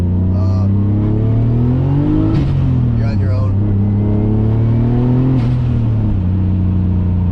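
Turbocharged 450 hp E34 engine droning and accelerating from inside the car with windows up, a faint high turbo whine riding above it, and a person speaking briefly over the noise.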